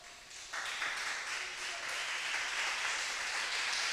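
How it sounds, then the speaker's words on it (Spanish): A church congregation breaks into applause during a sermon, a dense wash of many hands clapping that swells after a brief start and holds steady and loud. "Aplauda a Dios."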